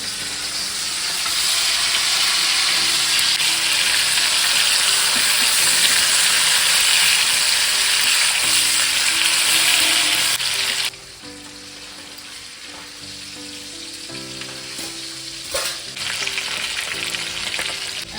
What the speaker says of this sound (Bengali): একটা দিক 2 মিনিট থেকে 3 মিনিট ভাজতে হবে। এক দিকটা ভাজা হয়ে গেলে আবার অপর দিকটা আরও 2-3 মিনিট ছেড়ে দিতে হবে।